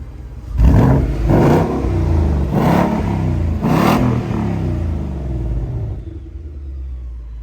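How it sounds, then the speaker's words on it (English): A car engine nearby revs four times in a row. Each burst is a loud, throaty blip, then the engine settles to a lower idle rumble, and nobody speaks. "give us a rev"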